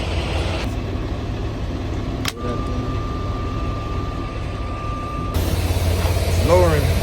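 Fifth wheel of an over-the-road semi truck lowering under a trailer, a steady engine idle with a sharp air release burst and a thin sustained tone, then louder rumbling as the rig moves.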